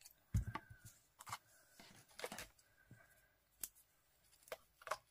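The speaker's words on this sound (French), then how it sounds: "et au milieu, je viens couper." Scissors snip through two matched pieces of ribbon laid end to end, giving several short, crisp cuts spaced irregularly, close and fairly quiet with no talking.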